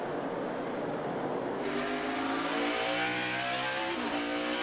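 NASCAR Cup Series race cars battle on the Charlotte Roval road course, engines roaring loud and close, with a sharp rise in intensity midway and shifting revs as the cars brake and accelerate through a corner.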